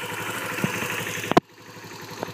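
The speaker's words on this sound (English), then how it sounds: "you can hear the little knock when I give it a little bit of gas" A Kawasaki Bayou ATV engine with a knocking fault idles in a steady low putter, then gives a few sharp knocks as it is given a little gas, and its idle drops away quieter afterward.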